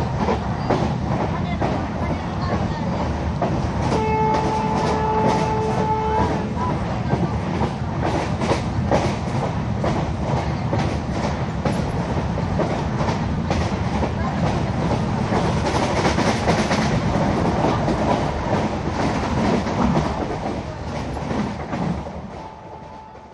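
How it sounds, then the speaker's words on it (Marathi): The Vivek Express runs on rails near Nadiad Junction, with loud steady rumble and rhythmic clickety-clack from inside a coach, a brief tonal horn or squeal early on, and a slight fade near the end. "आता आपली ट्रेन पोहोचलेली नदियाड जंक्शनला"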